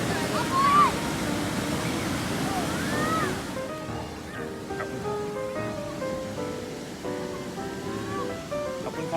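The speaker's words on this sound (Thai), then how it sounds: "อาหารท่ามกลางบรรยากาศเสียง น้ำตก" Waterfall at Kaeng Dinso, a steady broadband rush of falling water heard at moderate distance behind people talking, lasting the whole stretch with some softening partway through.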